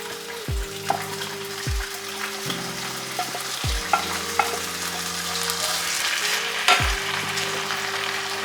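Ground turkey and cabbage fry in a pan with a steady sizzle, while a utensil stirs and scrapes the pan in a series of sharp knocks.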